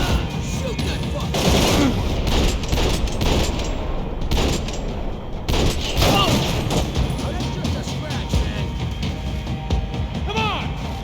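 Dense, loud bursts of rapid gunfire and heavy impacts fill a shootout in the video game Max Payne 3, with overlapping shots, crashes and booms running continuously throughout.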